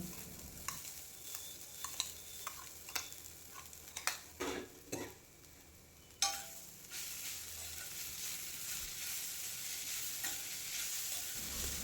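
A soya chunk and pea mixture gets stirred in a sizzling pan: quiet frying hiss broken by irregular scraping and clinking strokes of a spoon against the pan, with a sharper knock near the middle.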